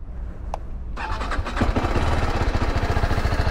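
A 300 cc single-cylinder Apache motorcycle on its stock exhaust cranks and fires up, then settles into a loud, close, rapid thumping idle that holds steady after a short click and a brief quiet start.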